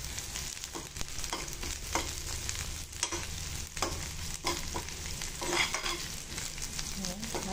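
Cumin seeds frying in a pan, a continuous crackling sizzle with intermittent scraping strokes of stirring, close and moderately quiet with no talking.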